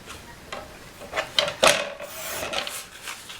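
Paper being cut on a trimmer for a card panel, a few short rasping slicing strokes close by, the sharpest burst near the middle, with no talk.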